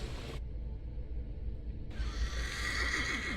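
A horse neighs in the video game The Thaumaturge, a clear whinny standing out over low rumbling game ambience, with a brief dropout early on and no talk.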